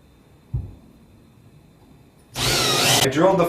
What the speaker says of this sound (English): I drilled the first hole